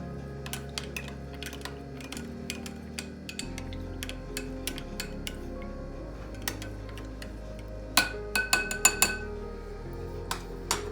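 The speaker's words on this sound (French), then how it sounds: "Donc là je vais verser ma levure dans le lait. Là, que je vais mélanger." A spoon or whisk mixes yeast into milk in a bowl for brioche dough, giving a quick series of sharp clinks and ticks against the bowl over a low background hum, busiest near the end.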